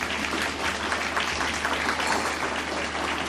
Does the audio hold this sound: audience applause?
yes